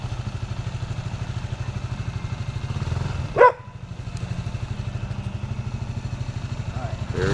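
A dirt bike engine idles with a steady rapid putter, close and fairly loud, with a brief clatter midway.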